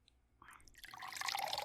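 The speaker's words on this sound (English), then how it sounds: "Let me pour us a drink." A drink being poured into a glass in a quiet room, a faint short trickle of liquid that grows louder and fuller over under two seconds.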